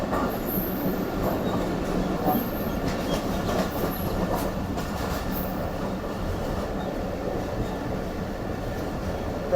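The Karakoram Express rolls along the rails with a steady rumble and clickety-clack from inside the carriage, with faint high wheel squeals over the continuous loud noise and no speech.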